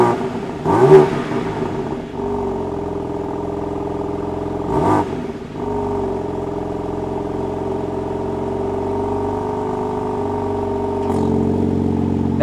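The 3-liter twin-turbo engine of a BMW M4 Competition coupe idles with a steady low rumble, broken by three sharp revs that flare and die back, heard close up with no talk.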